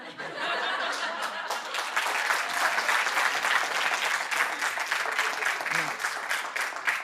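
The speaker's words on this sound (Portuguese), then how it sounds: "Palmas de solidariedade" A studio audience breaks into sustained applause mixed with scattered chuckles, the clapping dense and steady throughout.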